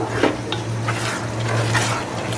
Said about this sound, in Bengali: চাল ডাল সব কিছু একসাথে একটু কষাই নিলাম